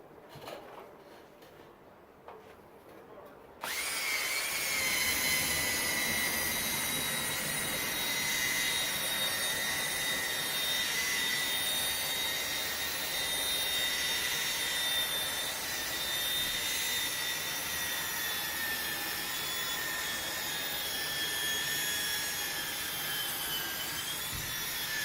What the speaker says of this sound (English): Drill's dying, so that's okay.